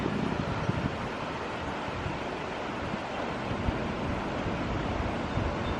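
Floodwater rushing down a swollen creek on a hobby farm during East Tennessee flooding, a steady, dense roar that holds loud and unbroken throughout with no voices.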